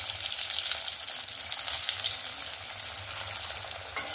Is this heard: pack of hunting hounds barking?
no